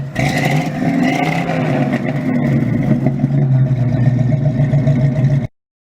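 A V12 car engine revs hard and loud for about five seconds, its dense mid-low roar held steady with small swells of throttle, then cuts off abruptly into silence.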